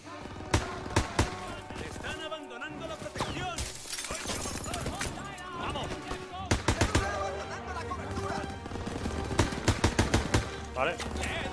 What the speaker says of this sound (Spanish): ¡Hay que acabar con la ametralladora!